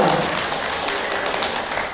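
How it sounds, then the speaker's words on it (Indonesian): Applause from the audience at a regional women's ICMI work meeting in West Kalimantan: a steady, dense wash of many hands clapping at once, fairly even in level across the short stretch. "Tepuk tangan untuk beliau."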